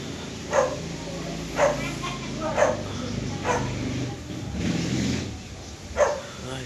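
A dog barks repeatedly in sharp bursts roughly once a second, fairly close, over a steady background hum.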